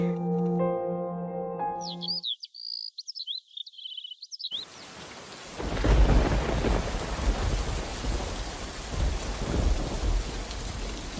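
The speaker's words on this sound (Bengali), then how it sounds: "বাইরে অনেক বৃষ্টি হচ্ছে" A cartoon sound effect of heavy rain with a thunder rumble, starting after a short musical sting and twittering tones, then a steady loud downpour that fills the rest of the clip.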